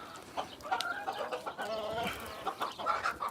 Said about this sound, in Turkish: Arkada da bir horoz bir tavuk var